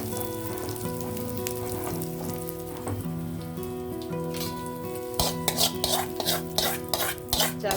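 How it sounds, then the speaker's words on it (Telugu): A hot tempering is poured into chana dal chutney, giving a burst of crackling sizzle over a steady stirring, clinking background, loud bursts in the final few seconds. "మన స్టవ్ ఆఫ్ చేసేసి పోపు ఇందులో వేసేద్దామండి."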